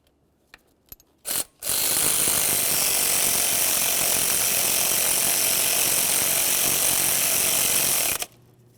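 A ratchet loosens an exhaust manifold nut on a 2005-2010 Chevrolet Cobalt, starting with a few quiet clicks and knocks, then a loud, continuous rapid clicking for about six seconds before it abruptly stops.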